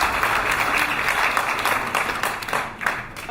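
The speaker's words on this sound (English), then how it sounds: "Please give him a big round of applause." A room full of audience members applauds a state governor at a Nigerian business roundtable in London: dense, steady clapping that stays fairly loud throughout and thins slightly toward the end, with no voices over it.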